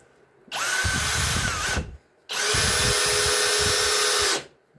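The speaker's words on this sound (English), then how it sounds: "that is the screw mode, and that drove the head deep into the wood" Flex FX1151 drill driver in screw mode driving a screw into wood, two loud sustained whirring bursts of about one and two seconds, close up, with a short pause between them.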